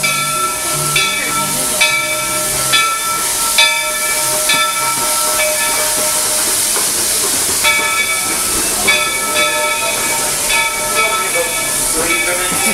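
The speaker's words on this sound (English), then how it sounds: "There are some who say that this steam train is a little old-fashioned" A steam train at Disney World hisses steadily with repeated whistle-like tones, in a sustained passing rush heard throughout.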